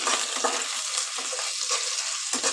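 Garlic and green chilli sizzle steadily in hot oil while being stirred, a bright continuous frying hiss with occasional scraping pulses from the stirring.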